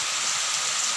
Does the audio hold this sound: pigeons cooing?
no